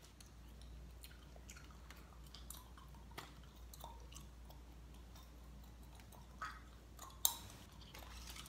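Gum chewed close to the microphone in a quiet room, giving soft wet clicks and smacks at an irregular pace, with a few sharper snaps standing out; no talking.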